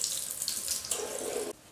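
Water runs steadily from a household hot and cold tap fitted with a non-return valve, a continuous close hiss and splash whose tone shifts partway through before the flow drops sharply near the end.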